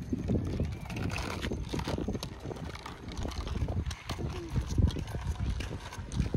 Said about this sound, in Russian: Ох, смотрите, как лошади побежали.